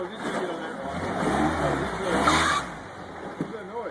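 An off-road truck engine drones and revs steadily nearby at the King of the Hammers off-road race, swelling briefly louder midway, with people talking over it.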